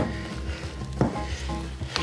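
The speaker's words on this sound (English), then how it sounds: "you just want to mix this and mix this until it gets real sticky" Gloved hands mix sticky fish paste, giving close, wet squelching and slapping sounds in an uneven rhythm, with a few sharper smacks and no one talking.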